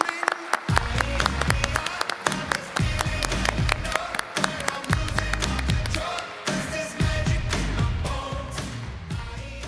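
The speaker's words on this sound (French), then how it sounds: "merci d'applaudir cette belle promotion Executive MBA" An audience at a diploma ceremony claps for a graduating Executive MBA class, a full, uneven burst of applause in a large hall with a few voices mixed in.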